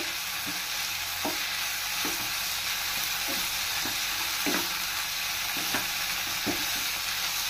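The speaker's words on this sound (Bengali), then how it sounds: "খুব ভালোভাবে নাড়াচাড়া করে ভালোভাবে মিশিয়ে নিতে হবে।" Mixed vegetables with sauce and ground black pepper fry in a pan as filling for vegetable rolls. Continuous sizzling carries periodic scrapes and knocks from the stirring utensil, and no one speaks.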